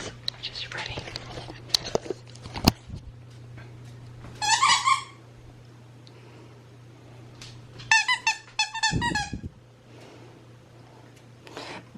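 Squeaky fox dog toy squeaks in two quick bursts of several rapid squeaks, close and clear, between soft whispered talk and a low steady hum.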